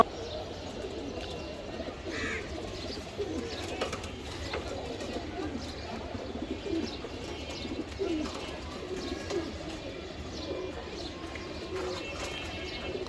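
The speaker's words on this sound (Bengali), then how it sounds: "এখানে নর্মাদি দোনোটাই রেস করা কবুতর" Racing pigeons, a male and a female from the same club, coo softly in repeated low, throaty phrases amid faint chirps and background hum, moderately close and without talk.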